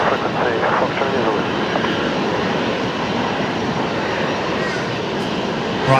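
Qantas A380 flight 98 heavy, diverted, comes in at Brisbane Airport with a loud, sustained engine roar, while a voice talks over the noise near the start.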